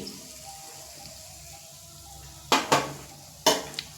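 Flour-dough snacks frying in oil in a pan, a quiet low sizzle broken by a few sharp utensil knocks and scrapes near the end.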